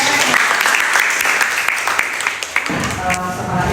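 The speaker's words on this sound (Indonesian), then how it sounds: "kita berikan aplaus dulu" Classroom audience applauding a student presenter, a broad steady patter of many hands clapping at close range, fading slightly before a short teacher's voice comes in near the end.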